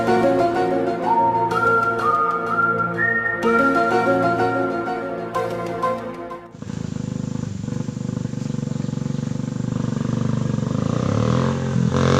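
Motorcycle with a new exhaust revving, rising stepped engine tones building up and then breaking into a loud, rough, sustained roar close to the microphone.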